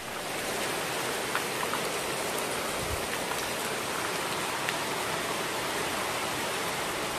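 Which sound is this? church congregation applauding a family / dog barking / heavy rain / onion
heavy rain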